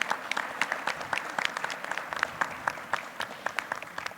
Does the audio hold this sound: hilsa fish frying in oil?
no